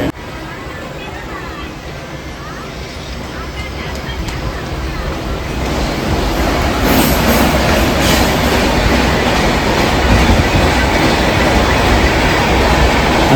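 A Mumbai local train pulls in and runs, its rumble and wheel clatter building from moderate to loud and then holding steady, close by and dominating the scene.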